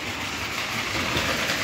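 Two model trains running on an expansion layout with switches, a passing siding and a bridge: a continuous close rolling rumble with faint rhythmic clicking of wheels on track, steady and unbroken, with no talk.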